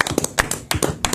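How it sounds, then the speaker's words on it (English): A small group of people clapping in a room, with quick, uneven claps that sound close and loud over about a second. "Clap it up, y'all."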